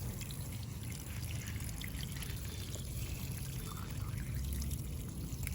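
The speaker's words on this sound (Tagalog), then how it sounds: "Pagka dinidilig ko, hindi man lang nag-i-stack, bumababa kagad." Water is poured steadily into a bonsai pot with fast-draining medium, a soft continuous trickle and splash at low level with no talking.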